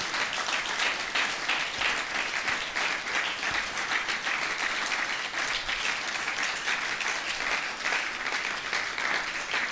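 A church congregation applauding, dense continuous clapping from many hands that stays steady and fairly loud for the whole stretch, with no talk over it.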